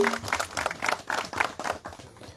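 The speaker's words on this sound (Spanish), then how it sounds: "les pido un fuerte aplauso para estos señores" Lively applause for members of a community bank at a formal handover of financial assistance, with a crowd clapping briskly in bursts that taper off toward the end.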